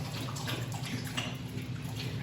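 Bottled water poured onto flowers as a makeshift watering can, a steady close splashing trickle running throughout with no talk.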